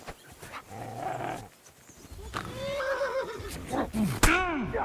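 A dog in the video game Kingdom Come Deliverance II growls and barks aggressively in a few close, harsh bursts, mixed with other game sounds.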